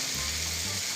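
Turmeric, red chilli and coriander powder masala fries in a pan with mashed ingredients, a steady close-up sizzling hiss with a faint stirring scrape in a brief burst.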